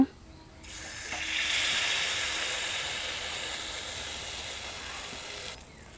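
Dosa batter hits a hot oiled pan and sizzles loudly, a steady bright hiss that swells soon after it starts, holds for several seconds and then cuts off.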